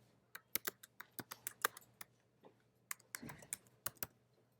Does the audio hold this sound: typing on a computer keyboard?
yes